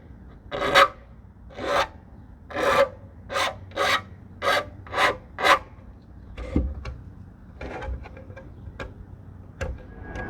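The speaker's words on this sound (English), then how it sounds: "After some filing to just take off the rough edges and to adjust the shape" A file works the rough edges of a Honda Rebel 1100 batwing touring windscreen, giving several close, rasping strokes in a regular rhythm, then lighter ticks and scrapes with a soft knock.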